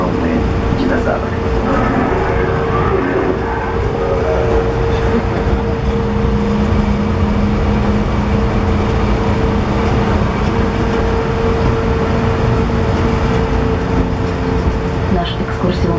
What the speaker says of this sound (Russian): Наш экскурсионный состав идет между двумя хребтами.